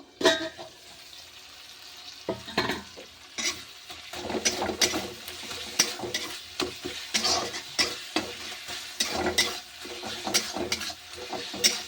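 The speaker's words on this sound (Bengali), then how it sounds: "দেখো ভালো করে আমি নেড়ে নিচ্ছি, ভালো করে নেড়ে চেড়ে নিলাম।" A pea and potato curry sizzles in a pan as a spoon stirs and scrapes through it, giving irregular clinks and scrapes over a steady frying hiss, close by.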